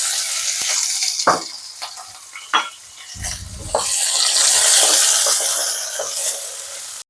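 Potatoes frying lightly in a little mustard oil in a pan give a steady hiss and sizzle, with intermittent stirring scrapes and clinks of a utensil against the pan, close and fairly loud.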